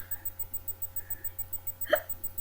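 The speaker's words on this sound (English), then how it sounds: "I'm getting hungry hiccups." A single hiccup from a woman, short and sharp near the end, over a quiet steady room hum with no talking.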